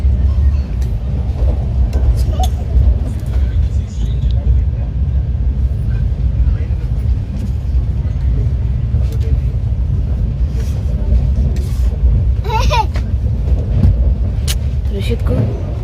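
A passenger train rumbles steadily throughout the ride, a loud, continuous low roar with faint rattles and squeaks on top, while people talk now and then over it.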